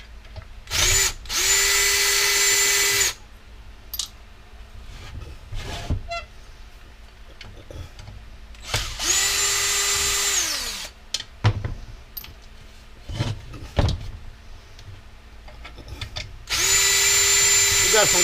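A power drill or driver spins in repeated loud bursts while removing screws from the back cover of a Ryobi electric power washer, with handling clatter and someone talking between runs.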